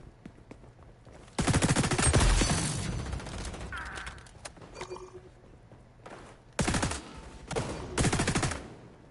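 Bursts of automatic gunfire from the online shooter game XDefiant, a long loud volley followed by several shorter close bursts, with a grenade blast and mechanical clanks between shots.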